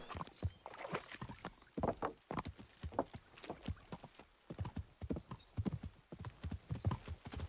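Rhythmic hoofbeats of a horse being ridden at a steady pace in the medieval game Kingdom Come: Deliverance, clear and close, with a brief whinny-like sound and no talking.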